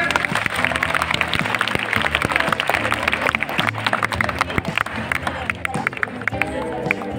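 Children at a school Science Day event clap in a loose, uneven burst of many small hands, mixed with crowd chatter and voices.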